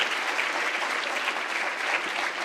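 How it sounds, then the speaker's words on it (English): An audience at a panel discussion on Islam and evolution applauds the speakers, a dense, steady round of clapping from a full room that carries evenly throughout the short stretch. "let's thank our speakers by giving them a warm round of applause"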